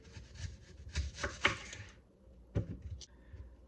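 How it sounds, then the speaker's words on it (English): A knife slices through an onion on a cutting board in a few quiet, separate cuts and scrapes, with pauses between the strokes. "So I'm going to slice this onion, cut the top off first"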